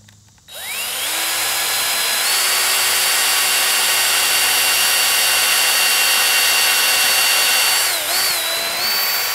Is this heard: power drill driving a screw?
yes